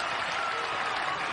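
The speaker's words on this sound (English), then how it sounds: "Ballot gets a round of applause." Basketball crowd at a Creighton vs Villanova college game applauds a player heading to the bench, a steady wash of clapping from a large arena audience, even and sustained throughout.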